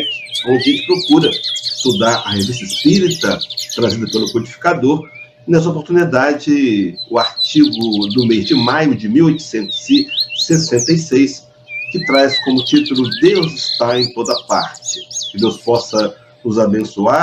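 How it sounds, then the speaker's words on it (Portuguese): Small birds chirp and twitter steadily in the background, fairly faint, beneath someone speaking continuously on a Brazilian spiritist radio program. "estamos ouvindo os pássaros cantando"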